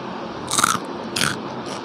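Two sharp bites into thin tomato-flavoured Karl potato chips, each a short crisp crunch heard close up with a pause between them, in a quiet room.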